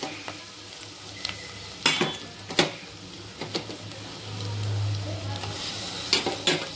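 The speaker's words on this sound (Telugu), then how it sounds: "ఇప్పుడు మనం ఈ నల్లేరు ముక్కలను ఇందులో వేసుకుందాం." Veld grape pieces added to onions frying in oil, a steady sizzle punctuated by sharp spoon-on-pan clicks and scraping stirs, with a louder hissing swell as the pieces go in.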